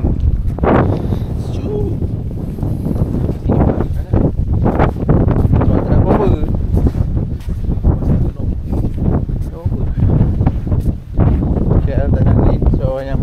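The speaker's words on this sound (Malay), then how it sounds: "Angin." Strong wind buffets the microphone at Iceland's Black Sand Beach, a steady loud roar and rumble throughout, with people talking over it.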